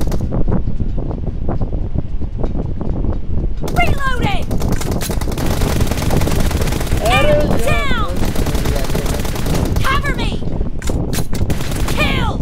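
Video game gunfire crackles in rapid bursts throughout, with loud automatic volleys and single shots over a constant rushing wind-like background.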